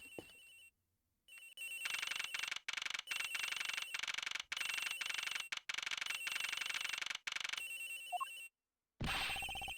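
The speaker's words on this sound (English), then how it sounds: "The ringing's coming from somewhere in here" A cell phone ringtone in the video game Ace Attorney Investigations: Miles Edgeworth rings loudly in a steady run of repeated bright trills broken by short gaps, with no talking.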